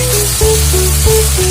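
Curry leaves dropped into hot oil for Kolhapuri misal, crackling and sizzling loudly and steadily up close, with no one talking.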